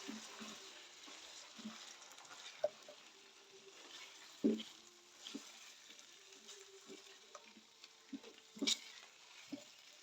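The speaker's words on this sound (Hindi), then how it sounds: "उसी ऑयल में चिकन को फ्राई करेंगे" Chicken frying in oil in a karahi on the stove, with a soft steady sizzle broken by scattered pops and a few sharper clinks of stirring.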